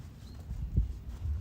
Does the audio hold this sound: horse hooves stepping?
yes